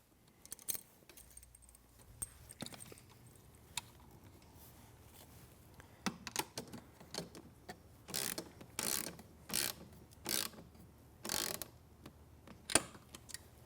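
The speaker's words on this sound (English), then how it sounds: "I can go back and tighten the bolt we just installed so that this bracket will not move" Bolt tightened on a Studio Reformer bracket with wooden posts: faint clinks and handling at first, then a run of short, evenly spaced ratcheting bursts, close and quiet, with no talk.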